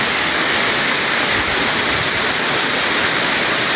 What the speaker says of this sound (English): highest waterfall in Sri Lanka